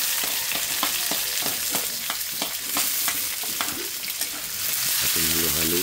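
Onion and garlic sizzle loudly in hot oil for squid adobo, with a continuous frying hiss and repeated rhythmic scrapes of stirring against the pan.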